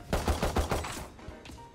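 Gunfire in the video game Valorant: a quick run of five or six sharp, evenly spaced shots, followed by a quieter tail with a couple of softer thuds.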